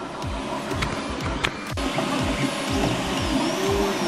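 A 3D printer builds a three-inch Cinewhoop FPV drone frame, its stepper motors whirring in steady repeating low pulses with a constant mechanical hum, close and alone without talk.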